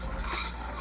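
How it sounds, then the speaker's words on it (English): A spoon stirs a hot, near-boiling milk sauce for a casserole in a pot, giving a steady close scraping and swishing with faint utensil clinks against the pot's side. "because I'm constantly stirring it, it's not going to get scorched"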